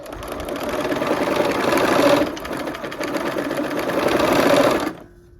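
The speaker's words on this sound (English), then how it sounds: "Okay, here we are at the machine. So we're gonna just go ahead and sew these half square triangles on." Sewing machine stitching half square triangle quilt pieces runs in a steady, loud, close whirring hum with rapid needle clatter for about five seconds, then stops with no talk.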